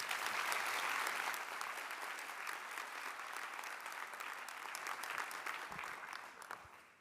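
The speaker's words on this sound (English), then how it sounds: "Let's give them a round of applause again, please." Audience at a healthcare school declaration ceremony applauding newly qualified nurses, a full, even round of clapping from many people that gradually thins and fades toward the end.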